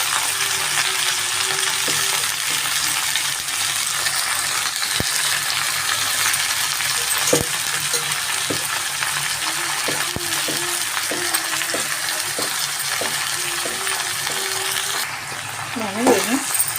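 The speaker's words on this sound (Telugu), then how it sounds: "తోటకూరని వేసేద్దామండి." Amaranth leaves frying in a pan as they are stirred in, a continuous loud sizzle broken by sharp metallic scrapes and taps of a spoon against the pan.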